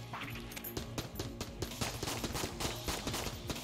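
Rapid gunfire in the Enter the Gungeon video game, a dense, fairly quiet run of quick repeated shots over game music and effects.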